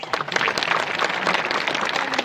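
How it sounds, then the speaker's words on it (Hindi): Applause from a village gathering audience for Sannu Ram, a dense, steady patter of many hands clapping throughout, loud and close with no pauses. "सन्नू राम के लिए जोरदार ताली मारो।"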